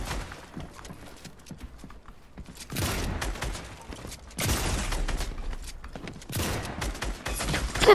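Bursts of Fortnite gunfire in rapid volleys, several clusters of sharp shots separated by quieter gaps, fairly close and loud over faint background game sounds.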